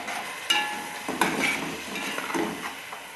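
Chicken karahi frying with yogurt in a pan, with metal spoon clinks and scrapes against the pan over a soft sizzle, a few sharp knocks in close succession.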